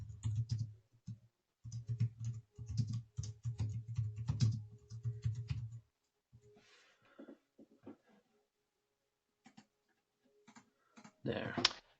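Keys on a computer keyboard are tapped in quick uneven bursts, close and clear, with a steady hum underneath, then stop; a voice speaks briefly afterward.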